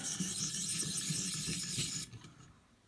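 Ontario Rat 1 knife blade rasped against a ViperSharp sharpener, a close, steady scraping rub for about two seconds that then stops, leaving quiet.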